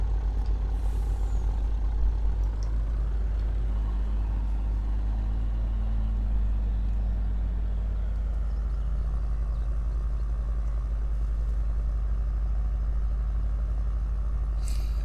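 Log skidder engine in Farming Simulator 19 during forestry work, a steady heavy diesel rumble with a rising and falling tone as it revs, close and continuous with no talk.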